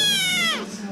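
A domestic cat gives a single clear, high meow that rises and then falls, close and loud.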